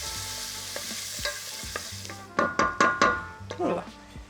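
Garlic and onion hit a couple tablespoons of hot oil with a steady sizzle, then a handful of louder bursts and clinks of stirring in the pan, with brief speech under it.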